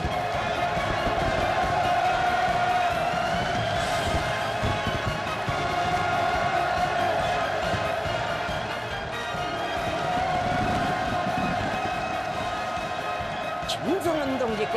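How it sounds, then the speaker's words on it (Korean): A large crowd at a New Year celebration event in North Korea roars and cheers continuously, a broad sustained wall of voices, with a high tone sweeping near the end and narration heard over it. "열광의 환호를 울리는 군중"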